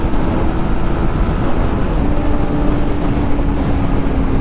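Kawasaki ZX-4R motorcycle riding on a highway, a loud, steady engine drone with a faint whine, buried under heavy rushing wind noise with no speech.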